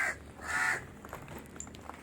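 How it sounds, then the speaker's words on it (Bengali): Crows cawing outdoors around a home, two hoarse caws close by in quick succession, then fainter calls trailing off with no one speaking. "কাকগুলো কেমন ডাকছে দেখো।"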